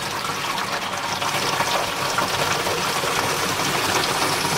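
Water gushes steadily into the container of a homemade rabbit self-watering system after a valve is opened, a constant loud rushing fill with no pauses.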